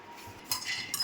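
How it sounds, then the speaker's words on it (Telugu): Peanuts dry-roasting in a pan and stirred with a spoon: two short, close metallic scrapes and clinks over a quiet background, with no talking. "పల్లీలు వేగేదాకా ఇలా స్పూన్తో కదిలించుకుంటూ ఉండాలి"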